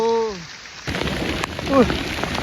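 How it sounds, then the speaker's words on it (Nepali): Hail pelting down during a storm on a high Himalayan trek, a dense steady clatter of ice pellets on surfaces close by, with a brief tonal chirp at the start and a passing voice-like sweep partway through. "लुक एट दिस असिना यत्रो असिना पऱ्यो यार टाउकोमा हानिरा"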